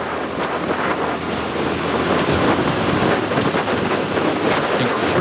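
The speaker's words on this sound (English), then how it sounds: "Incredibly windy out there." Strong wind roars across the microphone at a professional road cycling race in Catalonia, a dense, continuous rushing noise heard close and loud with no voices.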